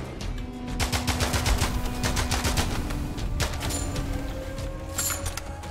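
Rapid gunfire from weapons in the first-person shooter roguelite Immortal Redneck, a dense stream of repeated shots rattling steadily throughout with no talk.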